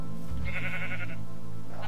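A sheep in the Minecraft FTB modpack bleats once, a clear short bleat lasting about a second, with a faint rustle near the end.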